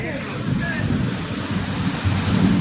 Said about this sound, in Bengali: বিশাল বৃষ্টি হচ্ছে আমাদের এখানে।